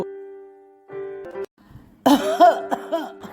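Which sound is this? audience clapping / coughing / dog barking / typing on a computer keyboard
coughing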